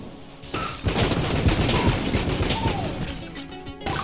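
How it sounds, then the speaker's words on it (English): Explosions and gunfire in the video game Enter the Gungeon, a dense, loud barrage of bangs and crashes running steadily for several seconds with no talk. "There were a lot of explosions."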